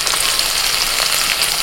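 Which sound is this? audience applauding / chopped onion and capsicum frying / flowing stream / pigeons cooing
chopped onion and capsicum frying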